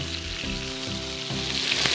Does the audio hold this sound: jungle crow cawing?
no